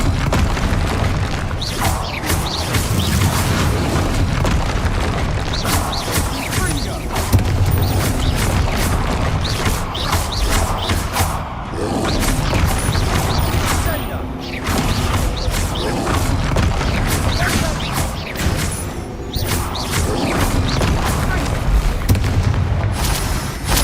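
Rapid spell blasts in Hogwarts Legacy combat, including the fiery Confringo, land as a dense, continuous stream of loud booms, crashes and impacts with busy mechanical clatter throughout.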